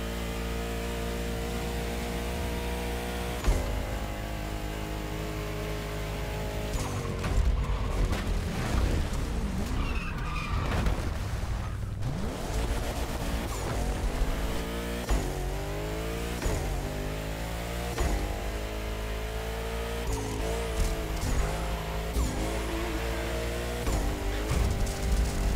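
Lamborghini racing in The Crew Motorfest, the engine droning loud and steady throughout with surges of revving and shifting pitch, punctuated by a brief louder burst near the middle and scattered sharper accents, no talking over it.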